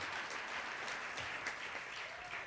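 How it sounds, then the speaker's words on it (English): Audience applause at an awards livestream, steady and fairly distant, a soft continuous wash of many hands with no talk over it. "Give them a round of applause."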